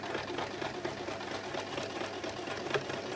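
A sewing machine runs a continuous stitch along a circle skirt seam, a quiet, fast, even rattle of needle strokes close by, alone without speech.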